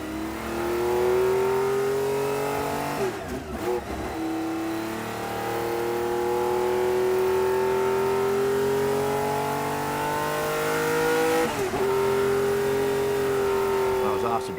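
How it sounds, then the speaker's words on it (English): A Ferrari 512 M V12 race car engine holds a steady, smooth tone that climbs gradually through long revs, with two brief dips in between, loud and close throughout. "With the V12, just sounds absolutely fantastic."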